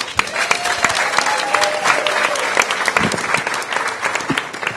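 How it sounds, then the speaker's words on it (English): An audience applauds at a 2015 Mayor Bowser 'Let's Read! Let's Move!' event, a dense, steady round of clapping from a crowd that fills the whole stretch. "Please give her a round of applause."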